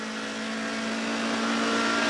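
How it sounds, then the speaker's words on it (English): A 1998 South African touring race car engine heard onboard at East London drones at high, steady revs with a strong tonal whine, loud and close throughout without talk. "Race cam action from the de Villiers car"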